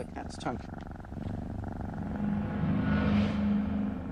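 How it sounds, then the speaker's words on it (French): A cat's low, steady purr rumbles close by, swelling slightly toward the end, with a few brief higher sounds near the start. "Le ronronnement nous en apprend énormément sur le chat."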